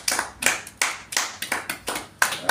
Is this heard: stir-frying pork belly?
no